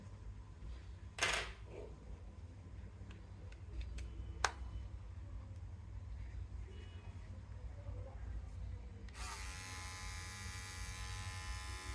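A Philips MG7920 grooming trimmer runs with a different attachment fitted, giving a steady electric buzz throughout, with a couple of brief clicks from handling and a brighter, higher whine joining near the end.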